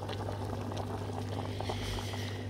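Water boils in a covered cooking pot, bubbling and churning steadily up close over a low, constant hum from the stove.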